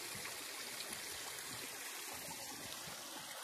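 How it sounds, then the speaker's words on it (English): Creek water flows steadily behind Nana Glen, a continuous close rushing and trickling with no voices. "there's a bit of a look at the beautiful creek"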